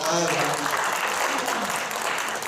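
Applause from an audience at a sports taping workshop for archery instructors, steady clapping over about two seconds with a voice speaking briefly at the start.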